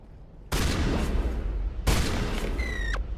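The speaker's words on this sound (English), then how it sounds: "Let's try the new shotgun out." Two heavy shotgun blasts boom out in Mass Effect Legendary Edition gameplay, each a loud broadband burst with a lingering tail, the second followed by a brief rising electronic whine.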